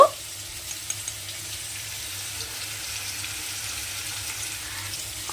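Cut potatoes, salted and dusted with turmeric, fry in hot oil for a shol fish kalia, giving a steady, even sizzle that holds at moderate loudness throughout with no voices.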